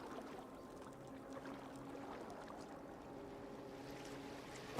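A boat glides over water in Assassin's Creed Valhalla, a faint, steady wash of water and low rumble that continues evenly throughout.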